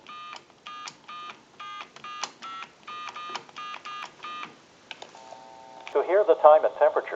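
A payphone dialing a time-and-temperature number: a steady run of short, evenly spaced touch-tone beeps, a brief two-tone signal, then a recorded voice begins answering on the line.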